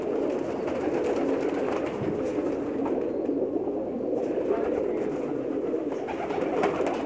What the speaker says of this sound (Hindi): मुझे उम्मीद है आपको ये कबूतर भी पसंद आएंगे।